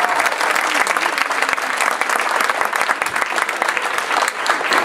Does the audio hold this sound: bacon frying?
no